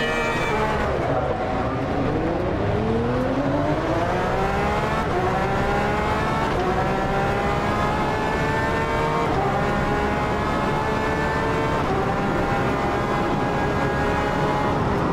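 Porsche race car engine in the rFactor 2 racing game, a loud continuous roar with rising harmonic sweeps as it climbs through the gears over a steady rumble, with no one talking.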